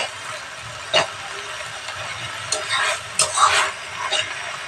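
Jute leaves stir-fried in a pan, with a steady soft sizzle and several sharper scraping stirs of a spatula against the pan, close and alone.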